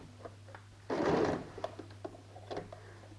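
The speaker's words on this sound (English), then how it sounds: "Let's go ahead and sew the top stitch." A sewing machine top-stitches a denim jeans handbag with a zipper panel in one short, quiet whirring run of stitching, followed by faint clicks and handling of the fabric.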